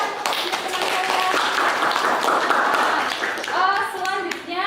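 A classroom of students applauds a classmate with steady, close hand clapping, and voices rise over the clapping toward the end.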